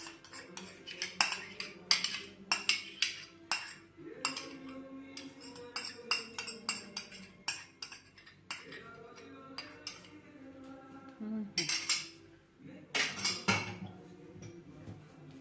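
A metal spoon clinks and scrapes against a bowl in a quick irregular rhythm, stirring tabbouleh with tomato paste and lemon zest, close and fairly faint with short pauses between bursts of mixing.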